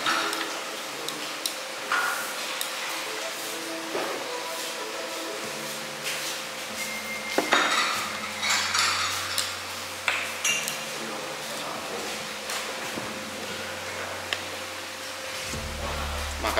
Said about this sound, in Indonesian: Kita aduk dulu nih ya.